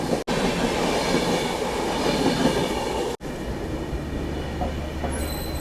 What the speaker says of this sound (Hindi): ये तो भाई अपनी शताब्दी एक्सप्रेस है।